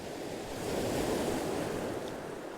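Ocean waves wash onto the shore at night in a continuous roaring surf, with some wind noise on the microphone and a gentle swell in loudness partway through.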